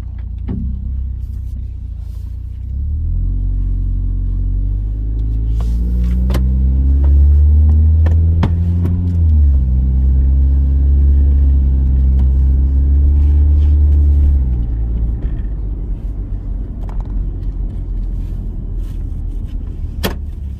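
A Jeep's engine rumbles steadily and close by, with the low drone rising and falling as it drives along, a few light clicks and knocks over the top, and no voices.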